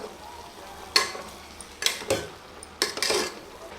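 Spoon stirring coriander powder and turmeric into pumpkin curry in a pan, three separate bursts of scraping and clattering over a quiet background with no talk.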